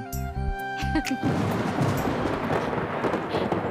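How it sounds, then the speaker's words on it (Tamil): A deep rolling rumble of thunder swells in after a short sustained tone, blending into a steady wash of rain-like noise. "இடி இடிக்கிற சதம் கேக்குதா"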